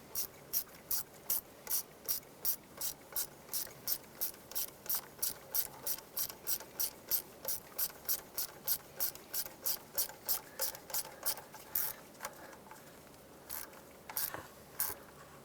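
A hand ratchet tightens 8mm ignition coil bolts on a 2007-2012 Chevrolet Colorado, clicking close up in a fast, even run of about thirty strokes that turns sparser near the end, with no talking.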